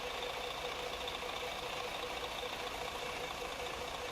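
Steady, low diesel bus engine droning at cruise in Euro Truck Simulator 2, a continuous even rumble heard from inside at the back of the bus, fairly quiet and unbroken, with no voices over it.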